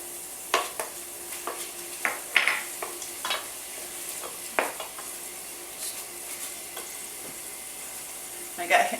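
Food fries in a pan with minced garlic and green and red pepper, a soft continuous sizzle punctuated by a series of scraping utensil strokes against the pan at irregular intervals, close and fairly quiet, with a voice speaking briefly.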